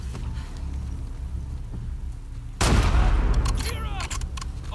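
Gunfire in The Last of Us Part II: a sudden loud burst of shots and crackling impacts starts midway, preceded by quieter ambient game rumble.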